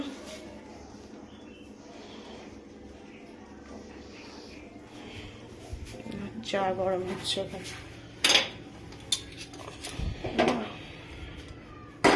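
Dishes, pots and cutlery being handled and washed in a home kitchen, sparse clinks and clatters growing busier toward the end, with scraping and knocks of metal and crockery close by, and a voice faintly in the background.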